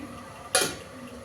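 A spoon stirs Telangana-style crab curry in a cooking pot, one short scraping, clattering stroke against the metal that sits clearly above a quiet kitchen background with a faint simmer.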